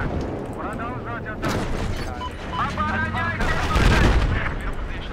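Heavy battlefield combat in Battlefield 4: loud, continuous gunfire and booming explosions layered over rumbling noise, with a player's voice and other chatter speaking over the din.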